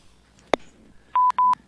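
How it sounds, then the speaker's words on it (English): Telephone keypad tones on a radio call-in line: a sharp click, then two steady beeps in quick succession, loud and close. "I'm just calling and hanging up the phone."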